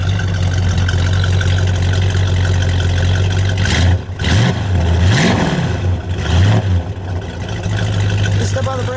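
A 1970 Plymouth Superbird with a 440 engine, a low-mileage survivor car, idles with a steady low drone, then gives a few short revs that rise and fall in pitch, heard up close with people talking nearby.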